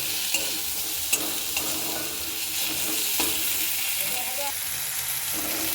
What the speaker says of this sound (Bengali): আদা রসুনটা 1 মিনিট মতো ভেজে নেব।